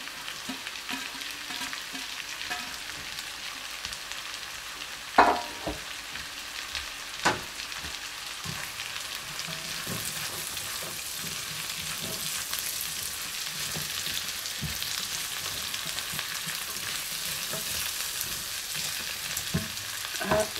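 Onion and garlic sauté in a pan for a home-cooked mackerel fish dish. A dense, continuous sizzle builds over about twenty seconds, with occasional louder scrapes and taps from stirring and no speech.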